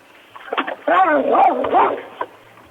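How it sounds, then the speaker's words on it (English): A dog at a Cranston brewery gives a few short yips and whining, talk-like vocal sounds, close and moderately loud, bunched in a burst of about two seconds. "I guess your dog agrees."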